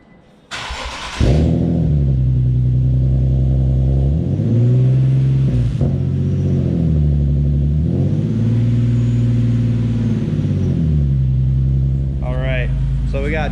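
A Nissan 370Z engine with a new catback exhaust cranks and catches, then idles with a deep, throaty exhaust rumble, revving up several times in rhythmic bursts before settling.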